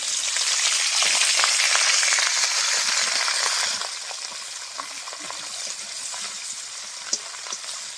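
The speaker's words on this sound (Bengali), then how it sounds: "আদাটাকে ভালো করে তেলের সঙ্গে মিশিয়ে নেব।" Ginger paste frying in oil with cumin, dried red chilies and bay leaf: a loud, bright sizzle that drops sharply partway through, then quieter frying with scattered clinks and scrapes of stirring, and no voices.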